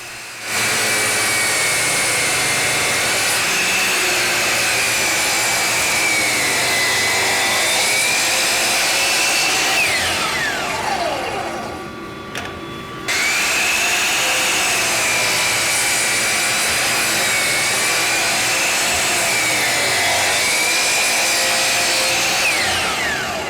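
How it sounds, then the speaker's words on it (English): A power saw with a stop block cuts a wooden drawer piece to rough size. Its loud, steady high whine runs close and continuous, dips briefly mid-clip as the cut pauses, then resumes at full volume. "I will set up a stop block and cut the piece to a rough dimension"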